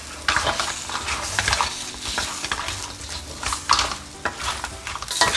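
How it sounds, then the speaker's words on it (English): A utensil scrapes and stirs through chilli mud crab sauce sizzling in a pan on low heat, with continuous frying hiss and irregular clinks and scrapes against the metal, close up. "Stir it a bit so the sauce will go all over."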